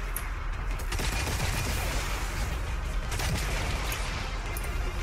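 The Thunderlord machine gun in the game Destiny fires in a dense, continuous rattle of rapid shots with scattered explosive booms. The gunfire runs for the whole stretch at a steady level with no talk over it.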